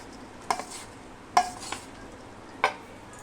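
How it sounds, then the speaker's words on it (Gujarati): A spoon scraping and clinking through churma ladoo mixture as hot ghee is worked in, three sharp separate strokes spaced about a second apart over a quiet background. "બધું મિક્સ કરી દઉં છું"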